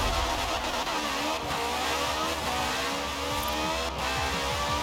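A 2013 Caterham Superlight R500 racing in Forza Horizon 4 revs hard and continuously. The engine whine climbs and drops through repeated gear changes, loud and upfront throughout, with no talk.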